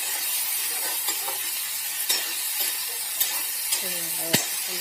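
Ivy gourd (kovakkai) being sautéed in a pan for poriyal, a low steady sizzle broken by several light clinks and scrapes of a spoon stirring against the metal.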